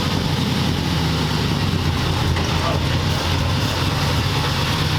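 A 1940 Ford convertible engine running steadily with a mellow, continuous rumble, its carburetor in need of adjustment, heard close by with a person talking over it.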